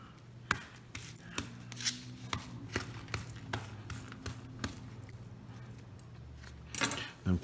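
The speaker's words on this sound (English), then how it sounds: "So a flank steak is important that we score it just so that we can get the marinade to go ahead and soak deep into it." A knife scores a raw flank steak on a cutting board with a steady series of soft, close taps about every half second, and a few louder knocks come at the end.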